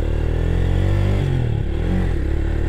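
A motorbike engine pulls hard in low gear, a loud, close, steady drone whose pitch slides down and climbs back as the rider changes speed, with no voices over it.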